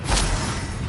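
Bombarda blasting spell from Hogwarts Legacy: a single loud whooshing blast with a deep thud, fading into a rumbling tail within a second.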